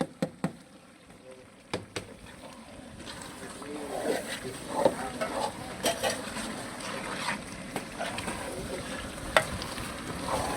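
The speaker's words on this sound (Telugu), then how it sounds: "చక్కగా అంతా కలిపేసుకుందామండి" A big pot of chicken biryani mixture being stirred, with mint and coriander going in: a few sharp knocks at the start, then continuous scraping and sloshing of the spoon through the thick mix.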